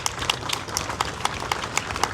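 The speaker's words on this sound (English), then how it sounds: "applause" An audience claps for soldiers at a formal address, with scattered, fairly even hand claps ringing out at a moderate distance and a steady rhythm.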